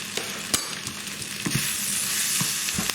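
Chopped onions and spring onion fry in a pan while a utensil stirs them, giving a steady close sizzle broken by several scraping strokes.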